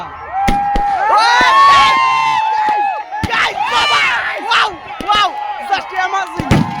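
Firecrackers burst during an outdoor New Year celebration, with several sharp bangs at irregular intervals over loud, excited shouting and cheering from a nearby crowd.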